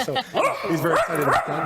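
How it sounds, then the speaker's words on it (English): A six-to-seven-month-old schnauzer mix puppy barks and yips excitedly in repeated short bursts close by, with a person talking over the barking. "he's barking because he can see himself"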